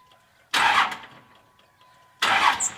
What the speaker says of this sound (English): we're going to bump the starter